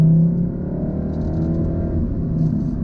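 A 2016 Volkswagen Golf R with a slight ECU tune, its engine pulling under acceleration as a steady, loud low drone with a rising harmonic tone, heard from inside the car with no talking.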